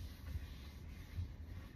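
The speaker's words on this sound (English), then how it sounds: "wiping things down" A wipe rubbing over car interior surfaces after a car wash gives a soft, steady close-up scrubbing with two slightly louder strokes, no voices.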